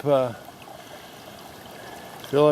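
Slow, soft stream of water trickling into a water filter at a mountain hiking spot, a steady low hiss between brief bits of talk at the start and end.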